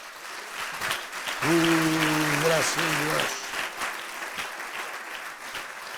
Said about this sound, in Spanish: Dele un fuerte aplauso a Cristo Jesús.